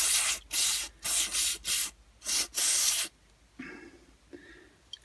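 An aerosol can of carb cleaner sprays a Stihl KM94 RC combi power head carburetor in a series of short, loud hissing bursts, then stops, leaving faint rustling and light handling noises.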